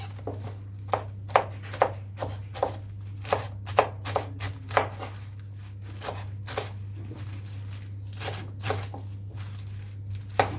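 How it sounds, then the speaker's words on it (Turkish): A knife chops arugula on a board for a winter salad, producing crisp, close knocks in uneven clusters, some quick and some spaced out, over a steady low electrical hum. "Çok ince de doğramıyorum."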